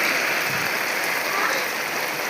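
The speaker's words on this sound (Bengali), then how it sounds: "আমাদের এখানে কত বৃষ্টি হচ্ছে" Heavy rain pouring outdoors, a dense, even hiss of drops striking surfaces that stays steady and loud for the whole stretch.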